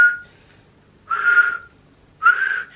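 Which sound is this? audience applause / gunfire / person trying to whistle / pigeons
person trying to whistle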